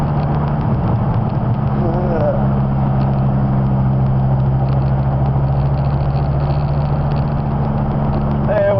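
A 2000 Dodge Viper with a six-speed gearbox runs while driving. Its engine gives a loud, steady, low drone with a rough edge, heard from inside the car. Someone talks over it.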